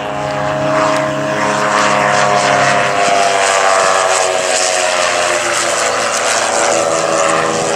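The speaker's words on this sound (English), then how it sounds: "It's powered by a Rotron rotary engine." A canard-wing light aircraft powered by a Rotron rotary engine flies past at an airshow. A steady, loud propeller drone with a smooth engine tone holds throughout and shifts slightly in pitch as it passes.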